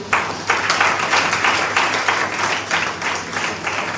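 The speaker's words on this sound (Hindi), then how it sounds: "तालियां बजाते हैं।" A church congregation applauds during an Urdu sermon, many hands clapping in a steady, fairly loud wash of rhythmic bursts that holds for several seconds with little else over it.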